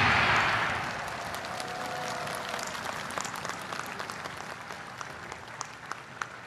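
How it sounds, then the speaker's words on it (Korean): A large crowd at South Korea's 75th Armed Forces Day ceremony, during a taekwondo demonstration, gives loud applause and cheering that swells at the start, then eases into steady clapping with scattered sharp claps. "큰 박수와 함성 부탁드립니다"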